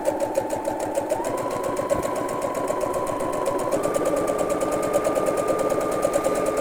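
A sewing machine runs a straight stitch, making a fast, even mechanical chatter and whirr that holds steady up close.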